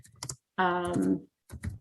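Several quick computer keyboard taps click close by on either side of a short voiced sound.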